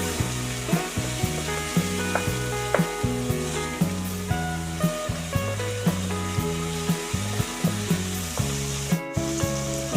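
Ginger garlic paste sizzles steadily in a pan for a prawn curry, with regular scraping stir strokes, under continuous background music.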